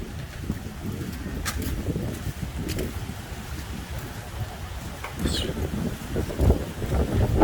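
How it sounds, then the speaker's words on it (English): Strong wind on Boracay in the Philippines buffets the microphone in a continuous low roar that swells and gusts louder toward the end, with no talk heard. "Wow, a lot of wind over here."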